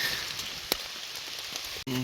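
Rain falls steadily in a forest during a mushroom-picking hike, a soft hiss of drops on leaves with a few sharper patters, followed by a brief cut at the end.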